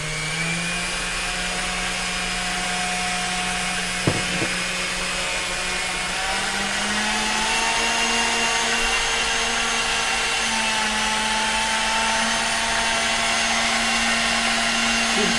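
A blender runs steadily for the whole stretch, mixing celery seed salad dressing with apple cider vinegar, a loud even motor whine that shifts pitch slightly midway, with one brief knock.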